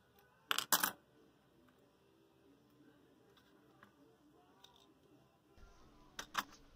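Keycap and spring being pulled off a Commodore 128 keyboard: two short sharp clicking rattles, one near the start and one near the end, with faint small ticks in a quiet room between.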